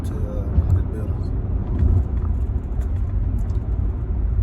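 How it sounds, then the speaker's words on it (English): Low, steady rumble of road traffic heard from inside a car, a continuous engine and tire drone running at an even level throughout. "I'm out here in traffic."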